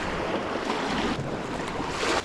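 Lake Michigan waves wash over a beach of granite, basalt and quartz stones, a continuous close rushing hiss with small surges, mixed with wind noise and no voices.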